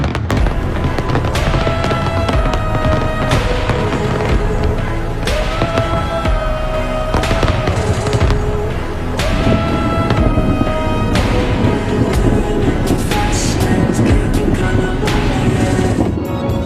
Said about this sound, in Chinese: 大家看一下维港的烟花吧。